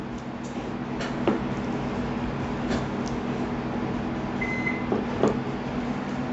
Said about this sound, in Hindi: हमारा माइक्रोवेव भी अच्छे से प्री हीट हो चुका है